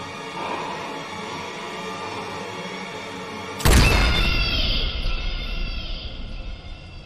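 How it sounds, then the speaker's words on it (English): A single sharp gunshot from BioShock 2 cracks out loud and close midway, followed by a long ringing, booming decay over a low ambient game backdrop. "if only the gunshot sound effects actually sounded like that"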